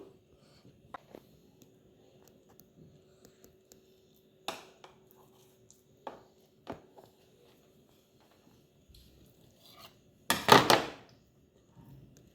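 A knife cuts through a tray of Muscat sago halwa, giving a few soft, scattered thunks and taps, then one louder, brief cutting burst near the end, close by with no talk.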